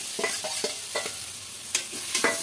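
Fried potatoes being stirred into spices in a pan for a coconut cabbage dish, with several scraping stirs and soft clicks of the spoon over a steady low sizzle, close and without voices.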